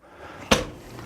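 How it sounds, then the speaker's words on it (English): A single sharp thump of a kitchen drawer or cabinet closing in a 2019 Newmar Bay Star Sport 2813 Class A motorhome, close and distinct above a quiet room hum. "Drawers galore."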